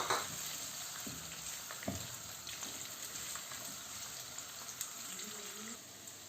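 Roughly cut onions fry in oil in a kadhai, a steady continuous sizzle throughout with occasional small pops and stirring clinks, close and fairly quiet.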